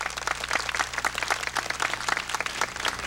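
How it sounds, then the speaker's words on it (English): Audience applause honoring a retiring music teacher, a moderately quiet, steady patter of many individual claps that continues evenly throughout. "We applaud you, Mr. Lewis, and say thanks."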